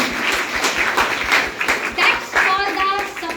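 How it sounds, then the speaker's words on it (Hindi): An audience applauding a business team at a seminar, a dense burst of close hand clapping that rises and falls, with voices and a child's chatter mixed in. "यहाँ की इंटायर टीम के लिए एक बार ताली बजा दीजिए"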